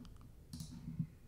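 A computer mouse clicks a few times, soft and close, while a save button is clicked in a website admin interface, with no voices.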